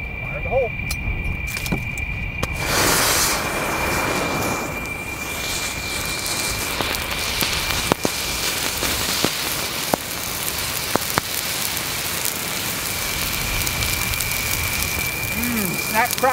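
A pile of dry wood and cactus set alight by a thermite grenade crackles and pops steadily, with sharp snaps scattered through a dense hiss of burning, a constant tone and brief voices underneath.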